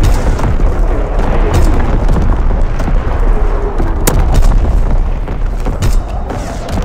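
Artillery fire rains on a target in a WW2 video game, a loud dense barrage of booms and blasts that rumbles on without a break, with one sharp crack standing out.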